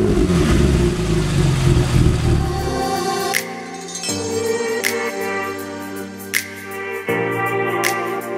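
A car engine revs hard on track during a Brands Hatch trackday. It roars at first, then goes through a series of gear changes with rising and falling engine notes and sharp shift clicks, heard close from inside the car.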